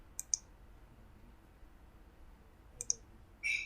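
A computer mouse clicks while someone works in Siemens TIA Portal software: two quick close double clicks, a pause, then another pair, all crisp and quiet in a silent room.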